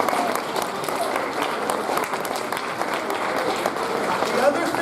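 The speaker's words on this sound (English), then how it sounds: "How about a big round of applause for yourself?" Steady applause from a crowd, broad and continuous throughout, with no clear breaks.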